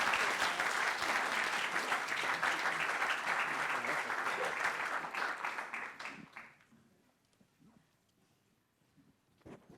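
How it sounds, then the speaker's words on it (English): Audience applause at a mayoral installation ceremony, a loud, dense wash of many clapping hands that runs steadily for about six seconds, then fades quickly to near quiet. "Give them a round of applause."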